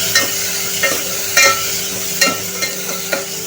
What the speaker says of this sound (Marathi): आता आपण ह्याच्यामध्ये 1 टोमॅटो बारीक चिरलेला टाकूया आणि आता टोमॅटो मऊ होईपर्यंत आपण शिजवून घेणार आहे